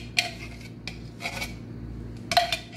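Blended mango being stirred into ice cream ingredients in a bowl, heard as a few close, light clinks and scrapes of a utensil against the bowl over a low steady hum.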